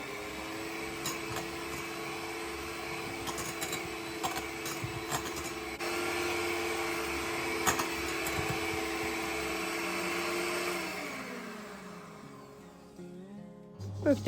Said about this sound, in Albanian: Do ta rrahim përsëri me mikser për disa minuta të tjera.